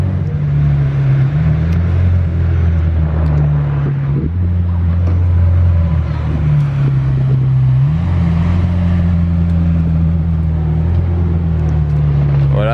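A supercar in Monaco drives past with a deep, droning engine note that shifts pitch as it revs and moves, loud and close for the whole stretch, with faint street noise behind.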